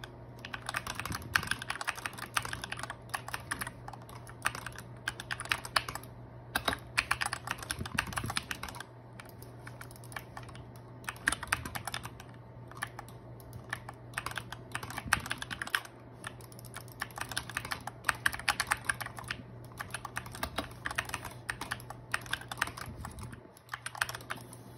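Fingers type continuously on a computer keyboard, close and crisp, the keys clicking and clacking in irregular bursts with brief pauses. No voices are heard.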